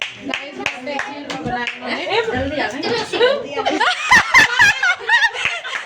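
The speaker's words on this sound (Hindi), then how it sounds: "तालियां।" Family members clap along at a relative's home during a sweets-sharing visit, with sharp hand claps mixed among lively talk, snickers and chuckles, growing denser toward the end.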